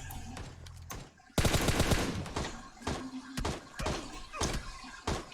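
Gunfire in the mobile battle royale game PUBG Mobile, with a loud burst of rapid automatic shots followed by several sharp, separate single shots and thuds, near and punchy, with brief talking.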